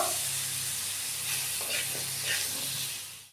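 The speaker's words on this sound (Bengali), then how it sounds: "আলুগুলির গায়ে ভালো করে মশলাটা মাখিয়ে একটু ভেজে নেব" Potatoes coated in spice paste frying in a pan, a dense loud hiss of sizzling oil with soft stirring movements, close up, fading at the very end, no speech.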